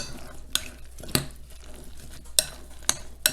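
Raw apple crumble mixture stirred in a bowl, a few sharp scraping clinks of the utensil against the dish spaced irregularly over quiet background, close and moderately loud.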